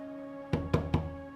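Three sharp knocks on a wooden door come quickly, close and loud, over a steady low background hum.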